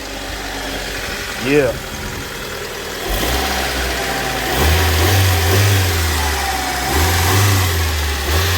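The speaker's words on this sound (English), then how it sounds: "So let's start the car up." A 1996 Mitsubishi Mirage Asti ZR engine cranks, catches and settles into a steady idle, then revs up in two swelling pulls, close and loud, with a brief spoken word near the start.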